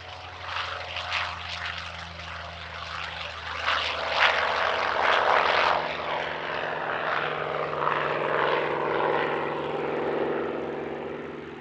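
A Douglas Skyraider propeller aircraft from 1946 flies at an airshow. Its piston engine drones with a steady humming tone that swells and eases slightly as the plane passes at moderate distance.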